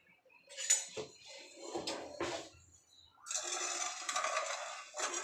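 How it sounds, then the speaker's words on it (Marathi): Sugar and water for gulab jamun syrup are stirred in a pan, giving faint scraping and clinking of a spoon against metal in short bursts, then a longer swishing stretch of liquid being mixed. "पाणी घातलं की थोडं मिक्स करायचं"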